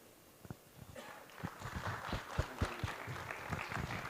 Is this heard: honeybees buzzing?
no